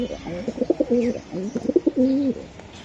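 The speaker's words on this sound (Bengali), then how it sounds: "দেখছেন নি কবুতর" A racing pigeon coos close by in two rolling, throaty bursts, each a quick series of rising and falling notes, with a short pause between.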